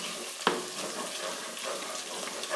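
Onion and tomato paste fry in a pot, giving a soft, steady sizzle with a brief sharp clack near the start.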